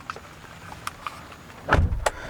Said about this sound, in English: the door actually has a really nice solid thunk